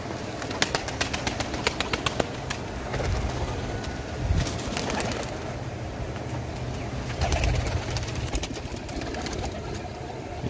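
Lahori flying pigeons flapping and cooing, a run of quick wing claps followed by soft low coos and rustling, moderately close against an outdoor background.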